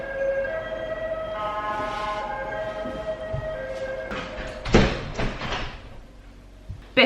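Emergency vehicle sirens wail steadily outside a window, faint and tonal for about four seconds, then give way to a series of close thuds and knocks.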